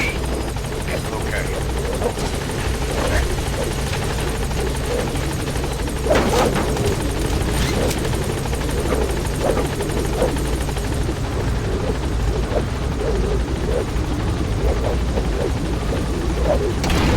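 Helicopter rotor chop and engine roar climbing away in Metal Gear Solid V: The Phantom Pain, a steady loud drone filling the scene with scattered thumps and game radio chatter layered over it throughout.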